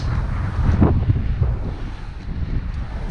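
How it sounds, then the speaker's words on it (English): Ocean breeze at Newport Beach gusts across the microphone in steady, loud wind buffeting with a low surf-like rumble, no voices. "Both feel and smell that cool ocean breeze"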